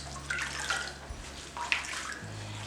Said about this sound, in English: So this is the first rinse.